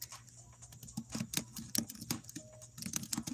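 Quick irregular clicks of typing on a computer keyboard, bursts of close, sharp keystrokes with short pauses between them, over a faint low hum and with no speech.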